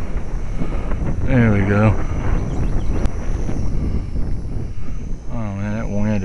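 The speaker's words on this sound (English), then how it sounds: "that wind is like way more than I like" Strong wind buffets an outdoor microphone beside Cedar Creek Lake, Texas, with a constant low roar throughout, while someone talks briefly over it.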